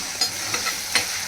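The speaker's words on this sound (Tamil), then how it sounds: "இந்த எண்ணெயிலேயே இந்த உருளைக்கிழங்கு நல்லா வதங்கிருச்சு." Potato pieces sauté in oil in a pan, a close sizzle broken by a few scraping stirs of a spatula, with no voices.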